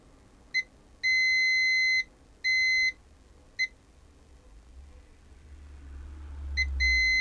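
Continuity beeps from a multimeter probing the shorted legs of an LED front bike light: a short chirp, two long steady tones, another short chirp, then more beeps near the end over a rising low hum.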